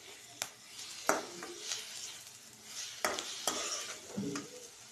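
Ginger garlic paste is stirred in a hot pan for a mushroom curry, with sharp utensil scrapes and clinks against the pan. The strokes are irregular and come over a soft, quiet sizzle.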